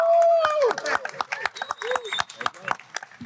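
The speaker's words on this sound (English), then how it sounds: "that was a collective clap" An exhibit hall audience at a diabetes scientific conference claps together in a brief scattered burst, the sharp individual claps mixing with talking voices.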